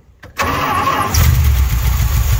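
A car engine with a carburetor cranks briefly and catches, then settles into a steady, loud idle nearby, with a slight rise in rumble after it fires.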